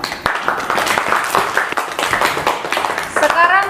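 Students applaud in a classroom during a study-tour presentation, a short burst of dense clapping with voices talking over and around it.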